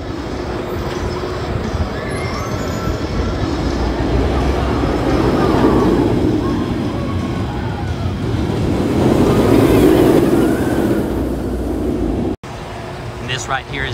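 The Banshee roller coaster at Kings Island amusement park in Mason, Ohio rolls past, a rumbling rush of wheels on track that swells and fades at moderate distance beneath crowd noise and talking.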